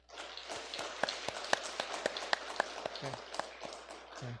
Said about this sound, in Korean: 우리 위로 박수 한번 보내주시기 바랍니다